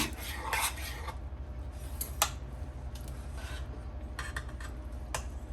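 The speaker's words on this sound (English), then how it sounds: "But you've got to give it a good stir." Apricot florentine batter stirred in a bowl, a steady scraping and rubbing of a utensil against the bowl with a few sharper clinks, continuous and close, with no voices.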